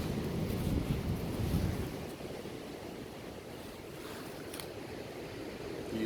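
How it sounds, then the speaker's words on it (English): Strong wind buffets a microphone outdoors by a forest, a steady, close rumbling roar that is loudest early on and then eases to a lighter, continuous gusting hiss with no talking. "It's so windy."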